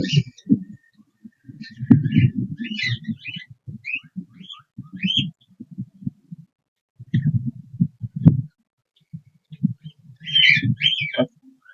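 Cockatiels in breeding boxes chirp in short scattered bursts, close and fairly loud, alternating with lower thumping and rustling and brief quiet gaps.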